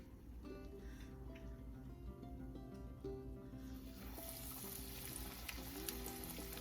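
A second batch of turmeric-dusted pieces for homemade kahree fries in hot oil, giving a steady close sizzle that swells louder and brighter partway through, with no talking over it.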